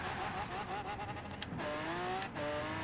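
Lamborghini Aventador in Forza Horizon 4 launching from a standing start, engine note rising steadily through the gears with short dips at each shift.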